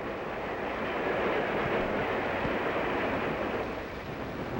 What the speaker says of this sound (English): the Powhatan Arrow streaks by, one of our finest trains